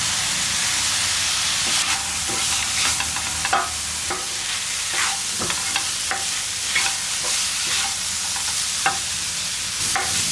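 Grated coconut and tomato sauté in a hot pan for tomato chutney, giving a steady sizzle broken by repeated scraping stirs. No one talks.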